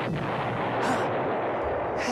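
A loud, sustained explosion sound effect fills a children's programme about stress, a dense, rumbling blast with a couple of brighter bursts, and no voices.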